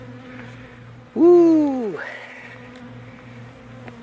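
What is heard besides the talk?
honeybees buzzing during hive removal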